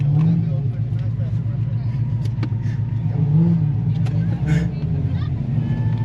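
Car engine revving hard during a drift at the Hot Rod Power Tour, a loud low rumble rising and falling in surges, with people talking over it.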